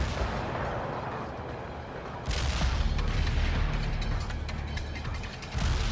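Artillery fire in World in Conflict, a steady low rumble of distant battle that jumps into a louder sustained barrage of booming impacts, with another heavy hit near the end; a voice speaks briefly over it.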